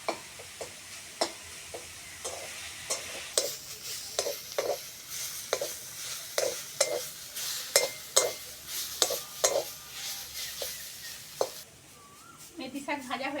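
Fenugreek greens fry in a pan with a low steady sizzle, while a spatula scrapes and taps against the metal in repeated, fairly regular strokes, close and clear, with brief faint sounds near the end.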